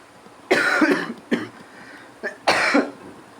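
A few close, loud coughs in quick succession, with brief gaps between them and no talking.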